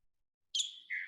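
A bird sings in a backyard, one short high two-part chirp after silence, clear but fairly faint and distant.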